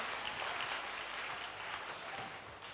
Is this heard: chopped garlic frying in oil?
no